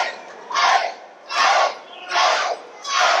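Pro wrestling crowd at a CCW arena show chanting in a loud, rhythmic pattern, four sustained roaring shouts spaced about a second apart with brief lulls between.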